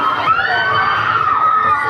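Crowd of riders screaming on a thrill ride at an amusement park, a sustained mass of shrill overlapping shrieks at steady loudness throughout, fairly close and with no clear talk over it.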